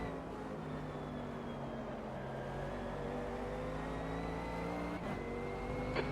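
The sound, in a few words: race car accelerating in video game Automobilista 2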